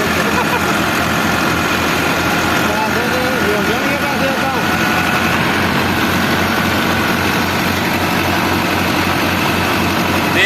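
A new Massey Ferguson 385 tractor engine runs steadily at a constant idle, loud and close, with a continuous low rumble throughout.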